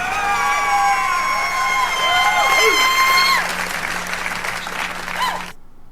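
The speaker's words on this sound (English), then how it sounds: "give yourselves a round of applause" A studio audience applauds at the end of a podcast episode, dense steady clapping with some whoops and cheers, loud and sustained before cutting off abruptly.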